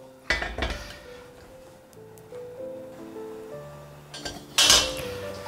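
Pan-fried tofu, browned on both sides, is tipped out of the pan: a sharp metallic clank near the start and a bright, louder clatter of pan and utensils near the end, with quieter scraping and soft tonal sounds between.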